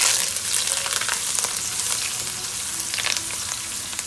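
Curry leaves and sliced green chilies sizzle and crackle loudly in hot oil for lemon rice, a steady close frying hiss with sharper pops and stirring scrapes.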